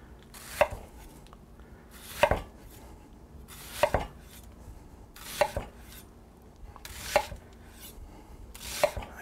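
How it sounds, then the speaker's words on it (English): A knife chops through half an onion on a chopping board, six sharp cuts spaced about every one and a half seconds, close and distinct over a quiet kitchen background. "I just cut slices across the diameter of half the onion"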